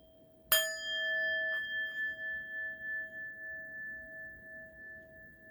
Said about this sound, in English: As you listen to the sound of the bell